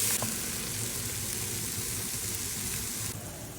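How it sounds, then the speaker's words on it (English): Tomato paste and onions sizzle steadily in a pot for a pot roast, with a constant hiss and faint scraping of stirring, fairly close and without talk. "stir it all together until that tomato paste turns a little dark"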